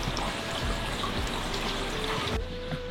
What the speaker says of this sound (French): partout où tu marches dans Gujo, tu entends de l'eau qui coule